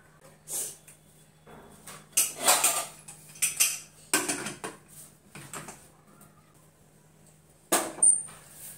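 Metal dishes and utensils clink and clatter in a home kitchen as dal and rice go into a pressure cooker, with several sharp knocks and scrapes spread over a steady low hum.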